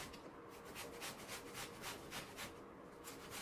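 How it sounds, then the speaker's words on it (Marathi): An onion is grated by hand on a kitchen grater in quick rhythmic rasping strokes, close and fairly quiet, roughly two strokes per second with no talking. "आणि हा कांदा, हा सुद्धा असा किसून घ्यायचा"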